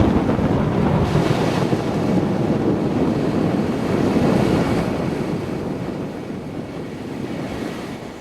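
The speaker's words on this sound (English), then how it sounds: "The waves are pushing us dangerously close to the rock jetty." Loud, constant wind buffets a sailboat as ocean surf surges around it near a rock jetty while a storm approaches on the Moluccan Sea.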